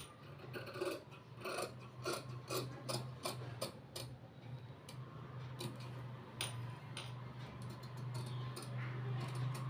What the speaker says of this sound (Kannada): ಲೈನಿಂಗ್ ಪೀಸ್ನ ನಾನು ಕಟ್ ಮಾಡ್ಕೊಳ್ತಾ ಇದ್ದೀನಿ